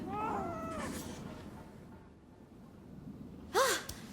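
Cats in the video game Rise of the Ronin meow a couple of times, a drawn-out cry at the start and a sharper, louder meow near the end, over a quiet room tone.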